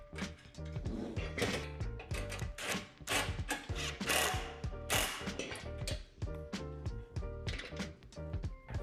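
A ratchet clicks in quick repeated bursts as a nut is tightened onto a truss rod while assembling a Lifetime 15×8 heavy-duty plastic shed, with crisp mechanical ticks and short pauses between strokes.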